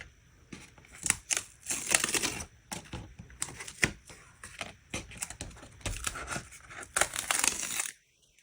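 Tape peels off a painted birch-tree holiday card in a string of sharp, close ripping and crackling bursts spread over several seconds, with short pauses between pulls.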